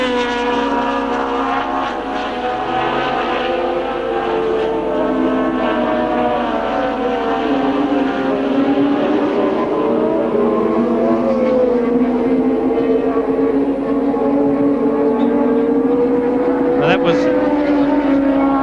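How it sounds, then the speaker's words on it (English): 1969 Formula 1 race cars at the British Grand Prix scream past while slipstreaming down the straight, a continuous loud engine drone with shifting pitch that runs the whole time under a commentator's voice. "It looks to me as though they're going down straight, slipstreaming down there"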